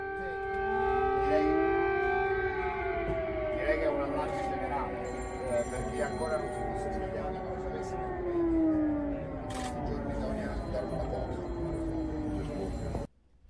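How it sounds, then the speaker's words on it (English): Air raid sirens in Kyiv, Ukraine wail across the city, several overlapping tones slowly rising and falling in a sustained, distant-sounding howl that carries on without pause before cutting off at the end. "air raid sirens are going off in Kiev, Ukraine's capital"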